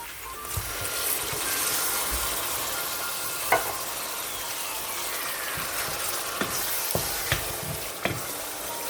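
Tinned tomatoes go into a hot frying pan with a sustained loud sizzle and hiss, broken by several sharp pops and spatters.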